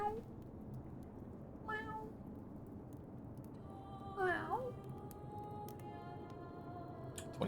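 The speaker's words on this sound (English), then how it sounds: "There's a cat outside just lounging around." A cat lounging outside gives two faint, drawn-out meows over a steady hum of background noise, with a voice talking quietly.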